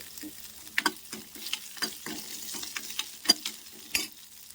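Onion sautés in oil with mustard seeds and cumin, a soft crackling sizzle broken by irregular spatula scrapes and taps against the pan, close and fairly quiet.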